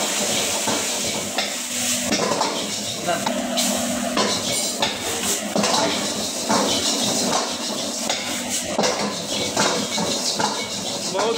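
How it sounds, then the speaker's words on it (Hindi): Ginger, garlic and chilli being tempered in hot oil in a pan for restaurant-style veg Manchurian, giving a steady sizzle and hiss with occasional stirring clatter throughout, while a person talks over it. "बहुत ही जबरदस्त तड़का लग रहा है इसमें।"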